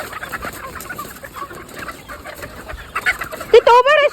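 Chickens being moved between sheds cluck in a scattered, uneven rhythm close by, ending in a louder burst of squawking calls.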